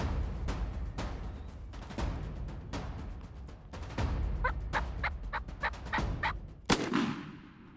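A wild turkey tom gobbles repeatedly at close range beside a decoy while strutting, with sharp rattling bursts over steady outdoor background noise.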